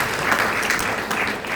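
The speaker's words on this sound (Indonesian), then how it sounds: "Tepuk tangan meriah dan berdoa" A church congregation at a Sunday worship service in Makassar claps together in steady, dense applause that fills the space and holds at an even level for a moment, with faint voices mixed in.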